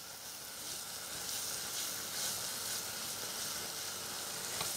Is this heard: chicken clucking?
no